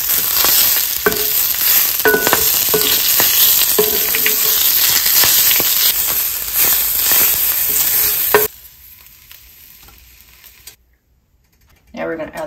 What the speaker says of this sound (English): next we're gonna saute a handful of spinach